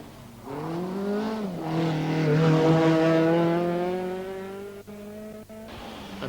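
Bertie Fisher's rally car passes on a stage of the 1983 Circuit of Ireland rally. The engine note climbs as it approaches, holds loud and close, then fades away, with a couple of sharp clicks near the end.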